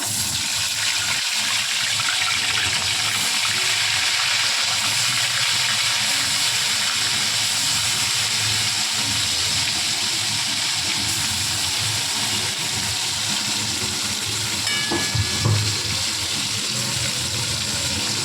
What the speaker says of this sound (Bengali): তেলটা এদিকে গরম হয়ে গেছে, একদম গরম হয়ে গেছে। আর এখানে আমরা মাছটা একে একে দিয়ে দেবো।